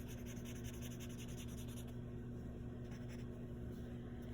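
Pencil shading on paper, a faint dry scratching in quick repeated strokes that shift slightly in texture partway through, close but very quiet over a steady low hum.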